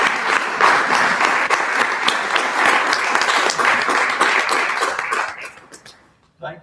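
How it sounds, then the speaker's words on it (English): Sustained applause from a Rotary Club audience at an officer installation, a dense steady wash of many hands clapping, loud and close, tapering off and fading out toward the end with a brief sound after. "Would you all stand that we might give them all a round of applause?"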